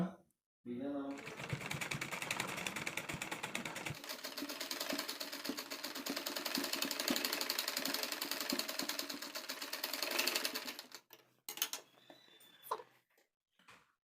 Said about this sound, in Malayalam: ഈ ഒരു അറ്റത്തേക്കടെയും ഞാനൊന്ന് സ്റ്റിച്ച് ചെയ്ത് കൊടുക്കുന്നുണ്ട് കേട്ടോ